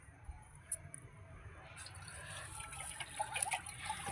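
Milk poured into a basin during a Naga serpent worship ritual, heard as a soft, steady liquid trickle with faint splashing, quiet and close, growing slightly fuller toward the end with no talking.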